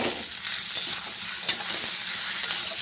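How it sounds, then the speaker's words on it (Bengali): Potatoes fry in a pan while being stirred, producing a steady close sizzle with faint scraping from the stirring and no talk. "আলুগুলো দিয়ে অল্প নেড়ে চেড়ে নেবো"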